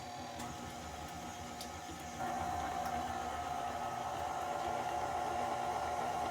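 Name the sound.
mixing room-temperature eggs into pound cake batter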